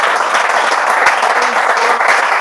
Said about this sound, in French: On peut applaudir quand même bien fort pour lui.